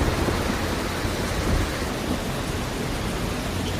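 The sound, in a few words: heavy rain in Jamjodhpur, Jamnagar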